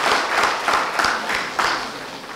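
An audience at a school crossfire debate in Uganda claps for a speaker, a steady wash of applause with a few louder bursts of hand claps standing out.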